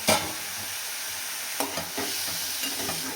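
Cabbage stir-fry in a pan, oil sizzling steadily while a spoon scrapes and stirs in a few distinct strokes, close and continuous with no talking.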